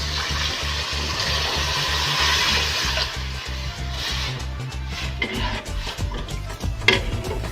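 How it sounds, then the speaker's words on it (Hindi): Water poured into a pot of mixed moong lentils in a home kitchen, a steady gushing splash over several seconds that gives way to softer stirring and clinks. "अब मैं साथ ही इसमें पानी ऐड कर दूंगी।"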